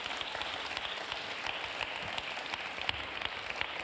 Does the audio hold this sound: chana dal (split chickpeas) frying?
no